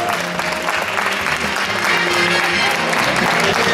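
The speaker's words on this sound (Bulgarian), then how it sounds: "Аплодирайте ги още веднъж," Audience applause for the Don Quixote drama group at the Morning Star Bansko 2018 event: loud, dense, sustained clapping from a large crowd throughout, with a voice faintly audible beneath it.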